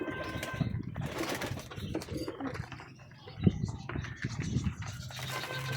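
Pigeons gather to eat a seed mix, giving soft, low cooing calls and light scratching nearby, fairly quiet and continuous, with one slightly louder call partway through.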